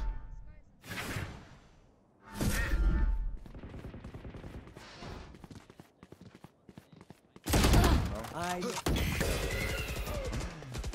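Gunfire in the shooter game Valorant comes in bursts of sharp shots and rapid volleys, loud and close, separated by quieter stretches of game sounds.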